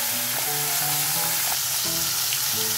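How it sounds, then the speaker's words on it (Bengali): Fish fry in hot mustard-style oil with crackling nigella seeds, a loud steady sizzle with sharp pops throughout and no talking. "কালো জিরে যখন ক্র্যাকলিং সাউন্ড হচ্ছে, তখন আমি মাছগুলো দিয়ে দেবো।"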